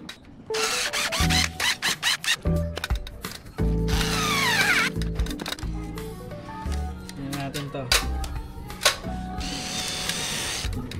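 A power drill whirs in repeated short bursts while screws are driven to mount bamboo blinds on an outdoor privacy wall, with longer whining runs in between and people talking close by.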